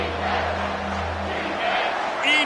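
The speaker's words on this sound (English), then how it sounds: "this crowd is bringing down the house" Stadium crowd in the college football video game NCAA 25 roars steadily on a big third down, a dense, loud wash of cheering with a brief shrill whistle-like peak near the end.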